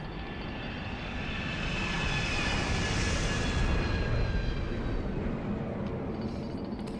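A loud, steady roar of a large passenger jet turbine engine, a broad rushing blast with a faint high whine, swelling slightly in the middle and staying close throughout.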